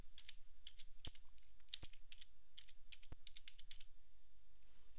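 Rapid bursts of keystrokes on a computer keyboard as a project name is entered, quiet, close and irregular with short pauses between clusters of taps.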